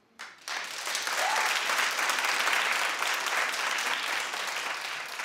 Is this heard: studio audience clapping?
yes